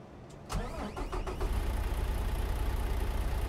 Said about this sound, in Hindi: लो दोस्तों, ये हो गया स्टार्ट और इसकी आवाज़ सुनते हैं इंजन की।